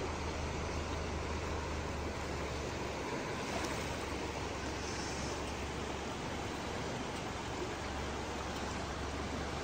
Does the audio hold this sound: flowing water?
yes